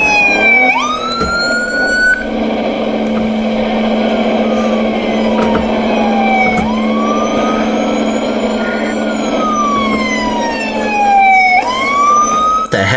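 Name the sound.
ambulance siren in a video game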